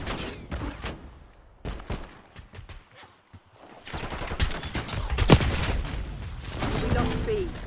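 Rapid bursts of gunfire ring out in an online shooter match with pistols and rifles, sharp shots clustering into fusillades that rise and fall in intensity across the clip.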